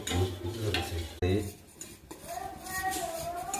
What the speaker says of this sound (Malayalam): അമൃതം പൊടി നല്ല പാങ്ങ് തിളച്ച് വരുന്നുണ്ട് ഇതിങ്ങനെ ഇളക്കിക്കൊണ്ടേയിരിക്കണം